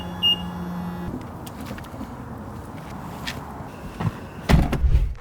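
A BMW X4 door opens with a click and later shuts with a firm thud, heard nearby over low outdoor background noise, with a faint beep and a few soft footsteps.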